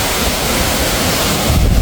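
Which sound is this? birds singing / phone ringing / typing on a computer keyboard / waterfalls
waterfalls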